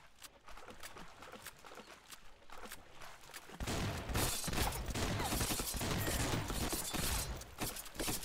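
Rapid bursts of gunfire in the video game Swamp Attack crackle in a dense, continuous barrage that grows louder and fuller halfway through, with no voices over it.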